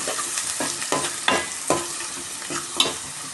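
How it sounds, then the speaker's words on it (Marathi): Wet ground masala fries in hot oil while a spoon stirs it, each stroke a distinct scrape, about eight in all, over a steady close sizzle. "आता मी यात टाकते वाटलेला मसाला तर चांगलं हे मस्त परतून घ्यायचं"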